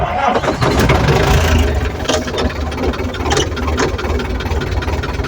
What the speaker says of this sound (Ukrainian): Ви почули, як воно завелося?